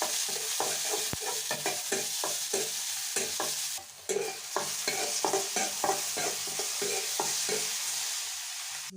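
Garlic frying in hot oil makes a constant crackling sizzle, with rapid rhythmic scrapes of a spoon stirring against the pan throughout and a brief dip in the middle.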